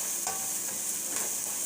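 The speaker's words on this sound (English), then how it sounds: "I'm using extra virgin olive oil. We're going to go ahead and get this onion in here" Onions frying in extra virgin olive oil, a dense steady sizzle close by with a few soft stirring scrapes, and no voices.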